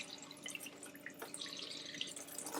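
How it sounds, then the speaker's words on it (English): Cold tap water runs over a makeup brush at a sink, a soft, steady splashing and trickling with faint drips, fairly quiet and close, with no talk. "run it under cold water"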